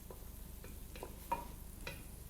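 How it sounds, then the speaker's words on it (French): Leeks sweating in a hot pan give a faint, steady sizzle, broken by a few soft stirring scrapes and taps at irregular intervals, with no voices. "Nous allons en fait suer nos poireaux, c'est-à-dire que nous allons enlever l'eau de végétation de ce légume"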